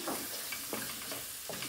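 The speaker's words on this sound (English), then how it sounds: "Now we're going to add the tomatoes." Tomatoes go into a pan of frying prawn bhuna curry with onion gravy, making a short, close burst of hissing sizzle along with a few soft stirring scrapes.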